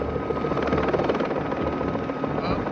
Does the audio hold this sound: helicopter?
yes